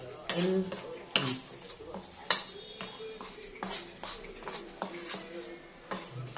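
A spoon stirs a mixture in a cup, with repeated light clinks and taps of metal against the cup in an uneven rhythm, close and fairly quiet, with faint background sound.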